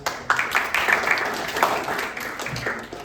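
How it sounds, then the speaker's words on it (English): A classroom crowd claps together for a few seconds, a dense, steady patter of hands with no pauses. "Give applause."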